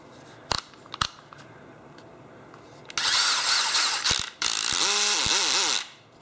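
A Dewalt DCD708 cordless drill gives a few sharp clicks, then runs in two loud whirring bursts close up, the motor spinning up and winding down.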